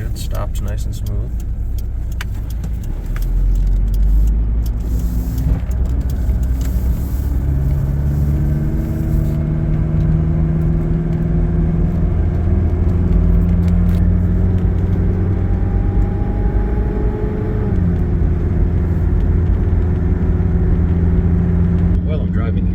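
A 1992 Mitsubishi Pajero turbo diesel drives along a road, its engine droning steadily with rising and falling tones as it shifts through gears, a continuous close cabin rumble with no talk.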